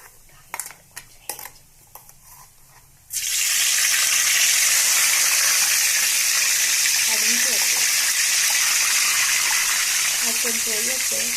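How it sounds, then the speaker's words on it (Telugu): Masala paste dropped into about three ladles of hot oil with chicken for a gravy: light clatter of utensils, then a sudden loud, steady sizzle that roars on continuously, with a faint voice briefly underneath. "ఇది మసాలా ముద్ద వేసేయచ్చండి."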